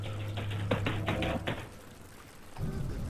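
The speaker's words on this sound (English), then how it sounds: "Hitting my hand on the keyboard and stuff like this." A hand hits a computer keyboard in a rapid burst of loud clacking keystrokes over about a second and a half, then fades to quiet before a muffled thump.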